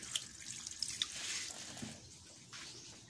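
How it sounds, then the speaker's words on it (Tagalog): Water runs from a tap and splashes into a pot of cooking native chicken, a faint steady trickle with small drips in a quiet kitchen. "So lagyan na natin ng tubig pampalambot."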